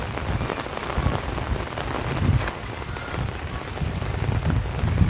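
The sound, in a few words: heavy rain falling on village fields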